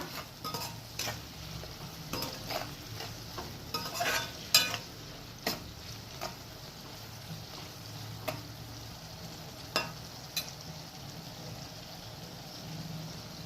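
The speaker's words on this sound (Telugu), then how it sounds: "మంచిగా ఉప్పేసుకొని గోలించుకొని మంచిగా గోలాలి" Vegetables with salt for a quinoa dish stirred in a pan, a quiet sizzle with repeated light scraping and clinking of a spatula at an uneven pace.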